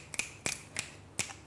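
Finger snaps used in place of applause, four crisp separate clicks spaced irregularly over a second and a half, close and fairly quiet with no talking.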